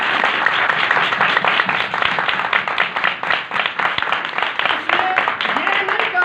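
Congregation at a Sunday church meeting clapping together in dense, steady applause for several seconds, with voices mixed into the noise.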